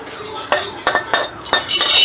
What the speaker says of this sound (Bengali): একটা পাত্রে ডালটাকে ঢেলে দিলাম।